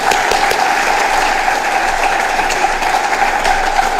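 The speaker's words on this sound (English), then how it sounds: "let's give His Excellency another applause of a crowd" A crowd at a state of the region address claps steadily in a large hall, a continuous, loud wash of many hands with no voices breaking through.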